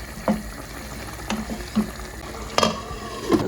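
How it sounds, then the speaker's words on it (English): Stirring a pot of groundnut soup with pumpkin leaf and dry bitter leaf, giving soft scattered scrapes and liquid clinks at an uneven pace, moderately close, with no talking. "I'll just stir this and cover it."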